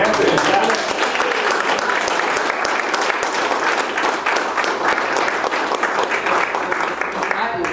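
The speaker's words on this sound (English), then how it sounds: "Let's give a round of applause to him" An audience at a market gathering gives a round of applause, a lively crackle of many hands clapping steadily for several seconds while voices carry over it.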